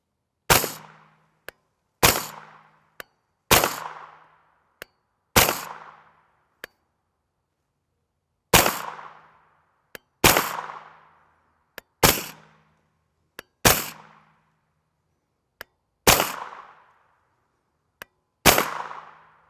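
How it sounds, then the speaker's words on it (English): Ten or so suppressed 9x19mm shots of 147gr FMJ ammunition come from a 16-inch barrel fitted with a YHM R9 suppressor. Sharp, evenly spaced reports ring out, each with a short decaying tail, in an otherwise quiet setting. "We'll grab a string with our suppressor on here to see if we gain any velocity in the 16-inch."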